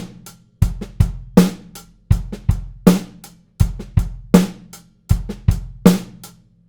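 Drum set groove with bass drum, snare backbeats, hi-hats and soft ghost notes, played in a steady repeating pattern, close and clear with no talking.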